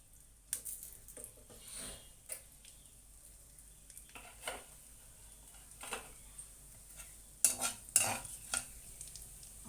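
A small tempering of seasoning seeds and curry leaves sizzles quietly in a little oil for onion chutney. Scattered bursts of crackle and popping alternate with metal spoon scrapes and stirring against the pan.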